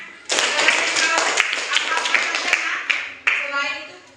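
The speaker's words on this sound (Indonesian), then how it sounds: "Iya, bagus, tepuk tangan." Children in a classroom clap together during a religious lesson, a brisk patter with a few sharp louder claps, close by, with a voice talking over it near the end.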